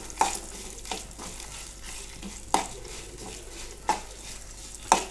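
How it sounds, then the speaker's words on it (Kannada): Byadgi red chillies fry in a pan under a soft, continuous sizzle, while a utensil stirs them with four sharp scraping clinks spaced a second or two apart. "ಬ್ಯಾಡಗಿ ಮೆಣಸನ್ನು ಆ್ಯಡ್ ಮಾಡಿ ಒಳ್ಳೆ ಮಾಡಿ ಮತ್ತಷ್ಟು ಹುರಿಯೋಣ"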